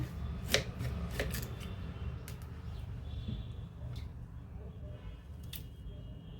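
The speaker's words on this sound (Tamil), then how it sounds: "இப்போ மரவள்ளிக்கிழங்க கட் பண்ணி தோல் நீக்கி எடுத்துக்கலாங்க." A knife cutting into a tapioca (cassava) root, several sharp crisp chops close by, spaced irregularly over a quiet room background.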